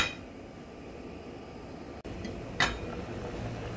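A pot lid set onto a cooking pot of Jamaican rice and peas with coconut milk, pumpkin, scallion and thyme, giving a single short metallic clink against a steady low background hiss.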